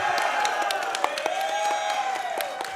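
A crowd cheering and whooping at an esports event, the VRML CON 2024 Breachers grand final, a loud, sustained roar of voices with scattered claps and sharp shouts rising over it.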